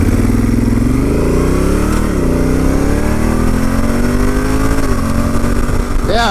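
A Honda Africa Twin motorcycle accelerates hard on wet ground, its engine revving up through rising pitch sweeps with brief dips at gear changes, loud and close for the whole stretch.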